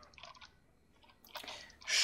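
Water splashes and drips in the zombie shooter Left 4 Dead 2 as a character is knocked into water, with quiet dripping followed by louder sloshing bursts near the end.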